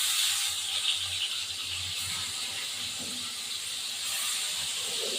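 A rohu fish is slipped into a hot pan of oil with a little salt, giving a continuous, close, bright sizzle and hiss that holds steady throughout.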